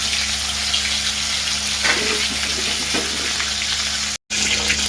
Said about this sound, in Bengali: আর এদিকে হচ্ছে মাথাটা ভাজতে দিয়েছে